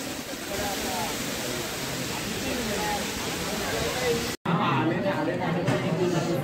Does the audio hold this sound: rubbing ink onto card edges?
no